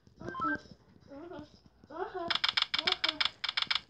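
Cell phone keypad tones dialed in a prison escape video game, a rapid run of short electronic beeps after a few spoken words.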